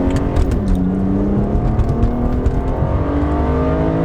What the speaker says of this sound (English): you do still have that nice 6-cylinder sound that you can hear behind you